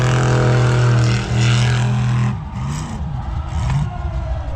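Idling and revving car engines in a drag race lineup at a Cleetus and Cars event, with a lifted Cadillac waiting in line; a loud steady engine drone gives way to rougher rumbling and short rev blips close by.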